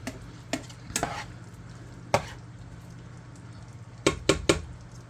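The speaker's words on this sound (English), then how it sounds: "And then we're just going to stir this around." Asian beef is stirred around in a pan, with a spoon or spatula knocking against it in scattered clicks and scrapes: a few early taps, one sharp hit in the middle, then a quick cluster near the end over a low background hum.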